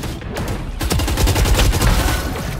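Rapid automatic gunfire in the shooter game Valorant, a dense burst of loud close shots repeating quickly for a couple of seconds.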